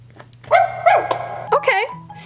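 A battery-powered toy dog from a Littlest Pet Shop set gives a few short electronic barks and yips in quick succession, close and fairly loud, with a faint hum underneath.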